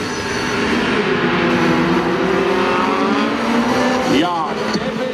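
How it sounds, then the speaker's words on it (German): A racing car in class 5 at the NAX-Cup autocross event in Mölln gets a rev test. Its engine holds a loud, sustained, droning note, with a sharp rev sweep near the end. "Drehzahltest."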